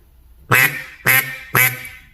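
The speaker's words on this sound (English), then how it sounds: "And then the Pato Loco call." Three sharp, evenly spaced quacks come from a Pato Loco single reed duck call. They are blown loud and close, with quiet between each note.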